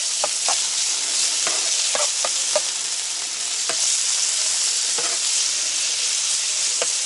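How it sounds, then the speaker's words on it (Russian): Strips of meat fry in hot oil with a loud, continuous hissing sizzle, while scattered clicks and scrapes of stirring punctuate it and no one speaks. "Вот в этом вкусном масле будет жарить."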